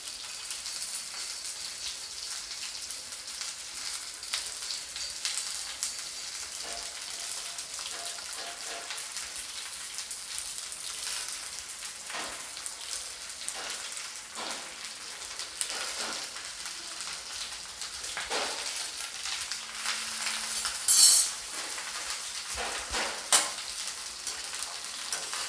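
Okra (bhindi) frying in a pan for bhindi do pyaza, a steady, dense hiss of sizzling oil that holds for the whole stretch, with a few brief louder pops and crackles near the end.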